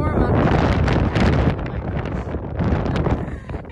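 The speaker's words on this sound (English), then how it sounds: "It's so windy." Strong wind blasts across the microphone in a horse show warm-up area, a loud, unbroken low roar with rhythmic gusty surges filling the whole stretch.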